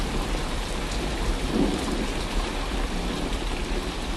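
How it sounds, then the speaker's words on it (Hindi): Heavy rain and hail pour down steadily with thunder rumbling through the storm over farm fields, a dense continuous wash of sound with no voices. "कुछ ही देर में बारिश के साथ साथ ओले भी गिरने लगते हैं।"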